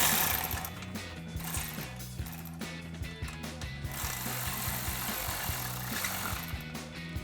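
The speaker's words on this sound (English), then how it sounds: "I'm gonna take a 13 millimeter socket to start tightening that down" A 13 mm socket wrench tightens an exhaust clamp on a Jeep Wrangler JL muffler during a Borla cat-back exhaust installation, heard as quiet, close, rapid ratcheting clicks repeating steadily with no talking.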